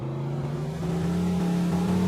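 A car engine in the Mafia 2 video game drones and builds steadily as the damaged, wrecked car is driven, with a loud, continuous revving tone that rises slightly, no voices over it.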